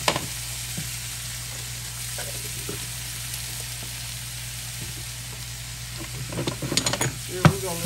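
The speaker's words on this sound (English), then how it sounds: "1 tablespoon of minced garlic goes in" Minced garlic and meat sizzle steadily in a hot pan, a close, constant frying hiss with occasional scrapes of stirring that grow busier and louder toward the end.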